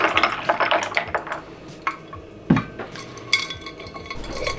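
Homemade red and blackcurrant squash is poured and handled in a kitchen, with liquid trickling, a few clinks of glass and utensils, and one louder knock partway through.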